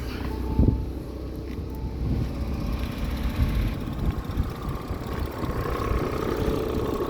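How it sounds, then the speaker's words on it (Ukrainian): An Audi A6 Avant Quattro 45 TDI diesel engine idles steadily and evenly under gusty wind noise, a continuous low rumble with no talking. "Двигун працює м'яко"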